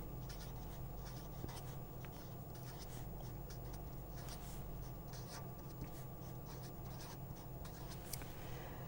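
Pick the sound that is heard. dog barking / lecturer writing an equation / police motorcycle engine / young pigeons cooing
lecturer writing an equation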